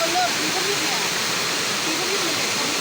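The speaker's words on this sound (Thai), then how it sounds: "น้ำนี่ยามแรงมันก็ไหลตลอดบ่แห้งจักเทื่อบ่" A strong waterfall at Tat Nam Di in Luang Namtha province, Laos, pours with a steady, loud broadband roar. Faint voices can be heard beneath the rushing water.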